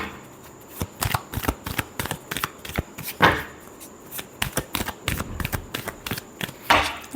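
Tarot cards are shuffled by hand during a reading, a rapid run of crisp, close papery flicks and slaps with two louder riffling bursts standing out along the way.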